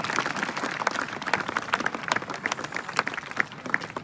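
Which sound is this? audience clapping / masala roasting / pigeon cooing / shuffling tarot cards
audience clapping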